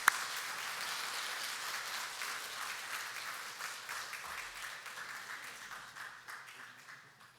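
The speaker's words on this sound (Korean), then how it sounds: "큰 박수로 초청해서 말씀을 듣겠습니다" Applause from a church congregation welcoming a pastor to the pulpit, a dense, steady clapping that starts sharply and gradually thins and fades over several seconds, with no talking.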